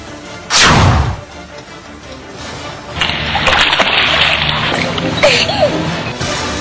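Water splashes loudly as twin boys are dunked underwater, a big burst of splashing followed by steady sloshing and churning, with voices faintly mixed in.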